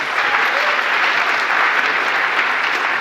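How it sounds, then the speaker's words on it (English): Conference audience clapping for a panel discussion's speakers, dense steady applause from a crowd filling the room, close and sustained throughout. "let's give another big round of applause to our lovely panelists."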